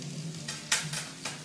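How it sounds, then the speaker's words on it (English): Chopped onion frying in a pan, a steady close sizzle with a few sharper bursts as it is stirred, and no talking over it. "so onion frying off"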